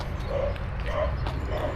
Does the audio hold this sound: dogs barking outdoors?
yes